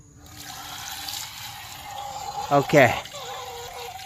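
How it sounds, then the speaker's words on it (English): Water trickles steadily into a Little Giant automatic game bird waterer, a soft running fill with a louder gurgling splash near the end and a brief spoken word. "So there it is, filling up. Fresh water for my ladies."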